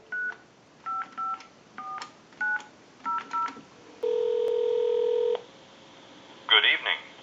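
A Southwestern Bell single-slot payphone dials out with a quick series of crisp touch-tone beeps in short bursts. A long steady tone follows, then a brief garbled burst of sound near the end.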